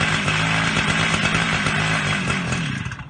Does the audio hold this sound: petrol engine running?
yes